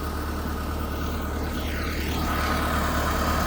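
A tractor engine runs steadily during mulching in a field, a continuous loud drone and whir with a slight sweeping change in tone midway.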